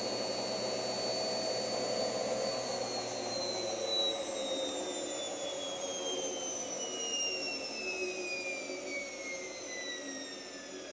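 Test rig for a washing machine running its final spin cycle, with the drive disconnected from the machine and a WF541 pump attached, giving a steady loud whine whose high tones glide slowly downward as the spin winds down, with no talk.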